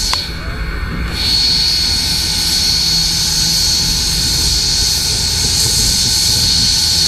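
Steam locomotive 4501, a Southern engine repainted in Norfolk and Western colors, gives off a loud, steady roaring hiss as it comes around, a sustained broadband rush with a faint high whine.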